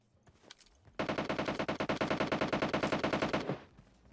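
Automatic gunfire in the PUBG Mobile battle royale game: a sharp, rapid burst of about twenty-five evenly spaced shots lasting over two seconds, loud and close, preceded by a few fainter scattered shots.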